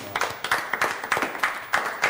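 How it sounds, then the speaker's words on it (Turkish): A studio audience on a Turkish celebrity-and-rookie competition show claps together in a steady, rhythmic beat, about four claps a second, loud and close with no talk over it. "Bir alkış çok alalım."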